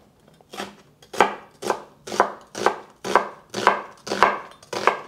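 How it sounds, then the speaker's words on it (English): A knife chops onions into strips on a board in nine firm, evenly spaced strokes, each a crisp close thud with a brief tail, alone without talk. "I don't mind chopping onions."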